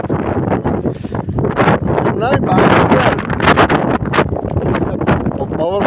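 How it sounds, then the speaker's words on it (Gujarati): Strong wind roars and buffets the microphone outdoors on a snowy Canadian day, a steady, loud gusting rush that continues throughout while a person speaks briefly. "પવન બહુ"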